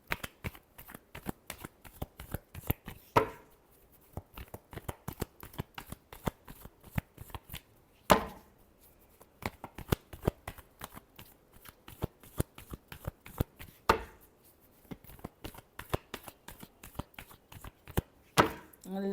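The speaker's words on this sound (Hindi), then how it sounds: "Last shuffle." A deck of tarot cards shuffled over and over in a steady run of crisp riffling bursts, close and fairly quiet, with brief pauses between passes and no talking.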